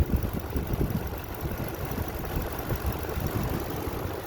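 A 2016 Lexus GX460 engine idles steadily, a low continuous rumble with a faint uneven knock, close by and with no voices.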